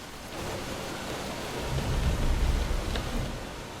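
Steady rain in a horror story setting, a dense broadband hiss that swells a little midway and then settles, with no voices.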